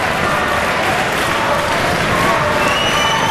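A wrestling crowd at a BCW 2008 indoor show roars with dense, steady applause and cheering, loud and unbroken throughout.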